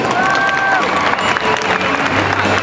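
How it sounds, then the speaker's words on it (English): A crowd at a Disney on Ice preshow gives loud, continuous applause for ice skaters, dense clapping with some cheering mixed in, filling the rink throughout. "Can we give them another round of applause"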